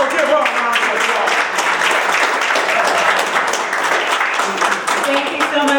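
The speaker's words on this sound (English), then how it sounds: "So give her a round of applause." Audience applause at a golf course and conference center ribbon cutting, a dense, steady wash of many hands clapping for several seconds with faint crowd voices mixed in.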